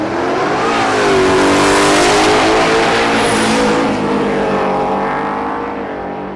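A 2016 Ford Mustang and a 2019 Ford F-150 launch side by side down a dragstrip, engines roaring loud and close with rising revs through a gear change before the sound fades as they pull away.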